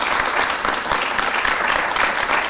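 A debate audience at a college claps in a brief, steady burst of applause, dense and even throughout.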